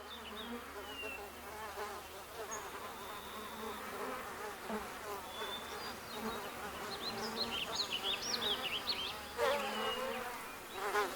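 Honeybee foragers buzzing at their nest beside beeswax cups, a dense continuous hum of many insects with individual wingbeats rising and passing closer toward the end.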